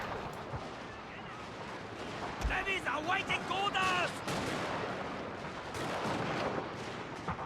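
Musket volleys crackle across a Total War: Shogun 2 Fall of the Samurai battlefield, a dense, distant rattle of many shots rolling under ongoing battle noise, with voices talking over it.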